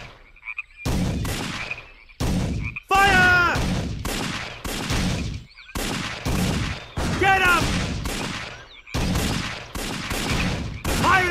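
Gunfire from the Codename Panzers Phase One WWII video game, loud sharp bursts in rapid irregular volleys, with short silent gaps and ringing tonal tails between shots.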